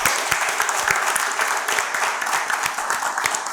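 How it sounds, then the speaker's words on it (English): Steady round of applause from an audience at a school climate quiz competition, dense clapping with distinct individual claps poking through, continuing evenly throughout without speech. "a round of applause again for the teachers involved as well"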